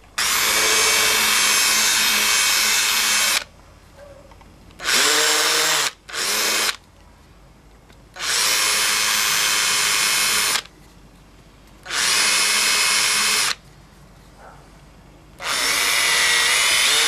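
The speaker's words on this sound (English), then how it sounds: "now I'm just going to use the countersink to take off these sharp corners that might chafe the string" A power drill fitted with a countersink bit whines in repeated bursts of a few seconds, separated by short quiet gaps, while it chamfers the sharp edges of holes in a wooden bobbin flange made for a lathe.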